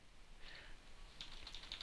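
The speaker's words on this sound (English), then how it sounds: "Dear goodness, can't type today." Soft, quick keystrokes on a computer keyboard, faint and close, in a short irregular burst.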